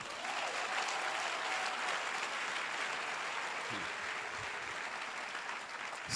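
A church congregation applauds steadily and loudly throughout, a dense wash of many hands clapping together that swells slightly at the end.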